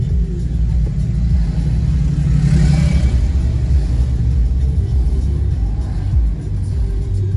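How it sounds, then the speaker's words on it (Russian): Road traffic rumbling past on a street where cars race, with a steady low engine drone and a brief louder pass around the middle; no clear high revving stands out. "Ну что, гонки на дороге, смотрите, еще продолжаются."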